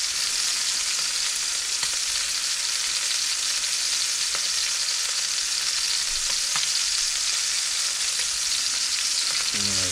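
A beef roast sears in a hot pan, giving off a continuous, even sizzle and crackle that stays close and loud throughout, with no voices.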